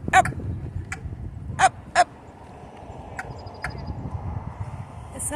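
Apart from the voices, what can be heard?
crow making a weird choking-like sound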